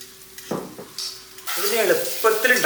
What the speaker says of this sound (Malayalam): വെളിച്ചെണ്ണയൊക്കെ ചൂടായ ശേഷം നമ്മൾ ആ ഉള്ളി പച്ചമുളകും അത് അത് നല്ലപോലെ നിന്നിട്ട് വഴറ്റിയെടുക്കാം